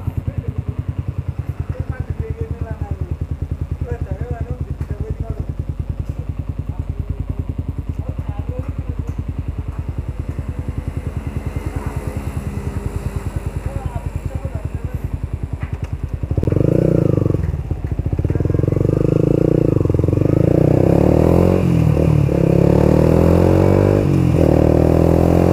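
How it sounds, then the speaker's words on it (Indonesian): A Yamaha YZF R15 V2 sport motorcycle runs steadily through a test ride, its engine note carrying under a voice, then growing louder and fuller as it pulls away and accelerates near the end. "ini gimana sih rasanya naik motor R15 V2 ini"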